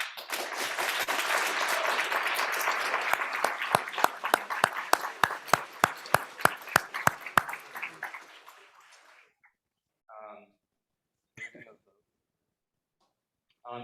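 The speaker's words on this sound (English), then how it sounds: "I'd like to give you guys a round of applause." A debate audience at a capitalism-versus-socialism event gives a dense round of applause that thins into a few loud, separate claps and stops around nine seconds, followed by quiet and brief bits of talk.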